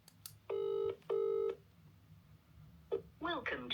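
Two steady multi-tone telephone dialing beeps sound in quick succession, followed by brief falling electronic tones, with faint background hum and no voices.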